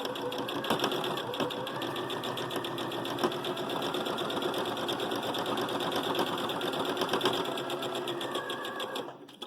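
Sewing machine stitching a flying geese quilt block from charm squares with a quarter-inch seam allowance, a steady fast mechanical whir running continuously and close for nearly the whole stretch, stopping abruptly at the end.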